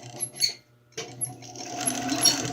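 A sewing machine joins fabric face mask pieces in short, close bursts of stitching, starting and stopping unevenly, then running steadily near the end, with no talk.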